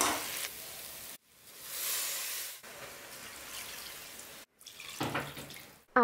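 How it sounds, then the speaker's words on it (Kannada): Water pours into a pressure cooker over frying country chicken for a curry, in a few splashing bursts separated by short pauses. "ನೋಡಿ ಇಲ್ಲಿ ನಾನು ಇಷ್ಟು ನೀರು ಹಾಕಿದ್ದೀನಲ್ಲ"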